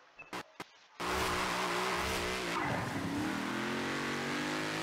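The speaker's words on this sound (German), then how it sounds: "der Ford Mustang hier, der fährt" Ford Mustang in the racing video game Forza Horizon 4, starting with a few short clicks and then a loud, sustained engine roar whose pitch climbs and shifts as it accelerates.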